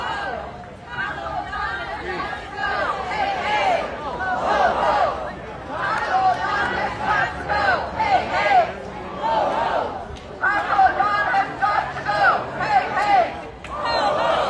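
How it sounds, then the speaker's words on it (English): A protest rally crowd against Trump at a No More Kings protest forms a steady murmur of chatter and distant chanting voices, rising and falling in waves with nearby talk. "The crowd's getting bigger and bigger as we approach 12 o'clock."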